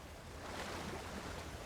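A waterfall in the fantasy video game Avowed gives a steady, broadband rush of falling water, even and unbroken, at a soft, distant-sounding level with no voices.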